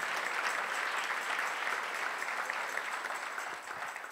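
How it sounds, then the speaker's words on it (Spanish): Church congregation applauding during a sermon, a steady, even wash of many hands clapping at a moderate distance, tapering slightly toward the end. "Dele ese aplauso al Rey si lo siente en su corazón."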